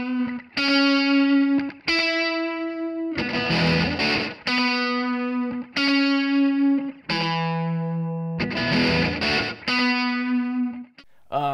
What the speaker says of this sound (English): All right, now we have some electric guitar,